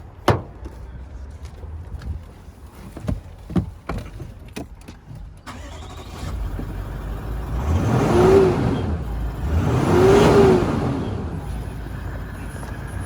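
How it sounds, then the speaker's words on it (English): A 200 Series car engine cranks and catches partway through after a few faint clicks and thumps, then idles steadily with two smooth swells of revving, close and alone without talk. "So we'll jump into the driver's seat, turn the car on."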